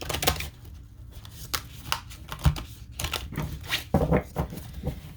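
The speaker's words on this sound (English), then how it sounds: "one more shuffle" Tarot cards being shuffled close up, a run of quick papery riffles and soft taps with short pauses between bursts, no voices.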